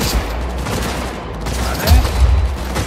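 Sustained gunfire from the video game Cyberpunk 2077, dense and loud, with bursts of heavy low booms near the end over a constant noisy background.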